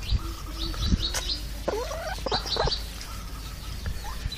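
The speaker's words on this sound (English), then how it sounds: "And here comes some chickens." Several birds cluck and squawk nearby in short, irregular bursts over a busy outdoor background.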